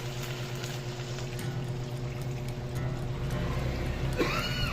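Water poured into a pot of pork caldereta, a faint continuous trickling that grows slightly louder over a low background hum, ending with a brief bright clink.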